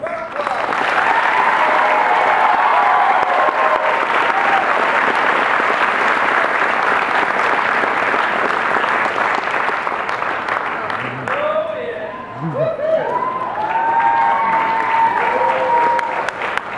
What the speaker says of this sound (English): Can you give me another round of applause?